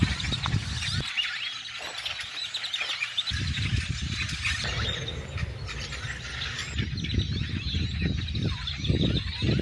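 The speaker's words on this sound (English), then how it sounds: "Oh no, there's geese." A flock of geese honks and squawks in loud, overlapping bursts close by at a lakeside state park, with the calls swelling and fading repeatedly.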